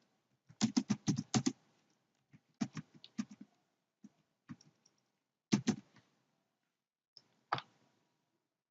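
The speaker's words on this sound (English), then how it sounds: "I'm typing something in this paragraph." Keys clatter on a computer keyboard while text is entered into an HTML paragraph, with quick clustered bursts of clicks separated by pauses, close and clear in an otherwise quiet room.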